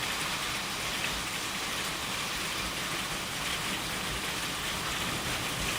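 Hail and rain pour down steadily during a storm in Kansas, Oklahoma or Texas, a loud dense unbroken hiss and patter drumming on surfaces, with no voices.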